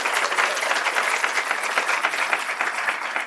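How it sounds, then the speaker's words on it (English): Steady dense applause from an audience at a summer intern symposium honoring presenters, many hands clapping continuously at even loudness throughout with no voices on top. "I wanted to ask you to give a round of applause to all our presenters"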